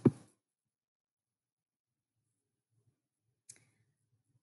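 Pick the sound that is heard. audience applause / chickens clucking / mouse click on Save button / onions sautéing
mouse click on Save button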